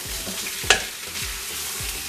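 Turmeric, cumin, coriander, salt, Kashmiri red pepper and garam masala stirred into goat paya frying in a pot, with a steady close sizzle, repeated spoon scrapes and one sharp clink near the start.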